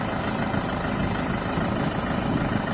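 A four-wheel-drive tractor's diesel engine running on a rainy day as it is slowly reversed off a transport truck, a close, steady, loud rumbling idle without a break and no voices.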